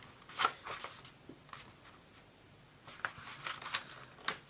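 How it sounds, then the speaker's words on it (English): Quiet paper rustles and crinkles as sheets are folded for a journal with a thrifted quilt cover, a few soft scattered bursts close by, no talking. "So I'm just going to fold this one here over."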